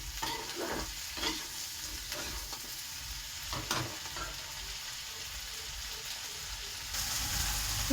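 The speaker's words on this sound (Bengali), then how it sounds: "ভেন্ডিটা আমার ভাজা হয়ে গেছে, আলু ভেন্ডি চিংড়ি মাছ দুটোই ভাজা হয়ে গেছে কিন্তু" Okra, potato and shrimp fry in a pan with steady crackling sizzle, interrupted by several scraping stirs of a spatula close by, with no voices.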